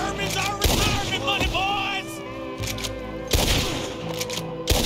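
Bursts of Lancaster rifle fire in Red Dead Redemption 2 crack out over a noisy game battle scene, with several sharp booming shots spread across the clip amid ongoing gunfight ambience.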